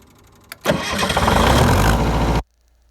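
A MEP 003A diesel generator engine cranks and catches, a loud close-up roar that runs steadily for almost two seconds and then cuts off abruptly to silence.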